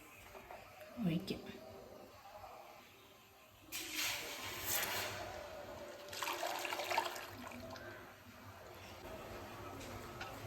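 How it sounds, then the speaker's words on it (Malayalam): Thick caramelized jaggery is stirred in an uruli pot for halwa, giving soft scraping and sizzling swishes in a couple of bursts, with someone talking quietly over it. "ഇത് നിർത്താതെ അങ്ങ് ഇളക്കിക്കൊണ്ടിരിക്കണം കാരമൽ പരുവായിട്ടുണ്ട്"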